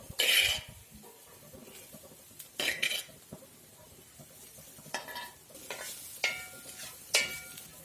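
Cooked mashed jackfruit and spice paste for thoran are stirred in a pan, with several sharp scrapes and clinks of a spoon against the pan between quieter stretches of low sizzling, close and without talk.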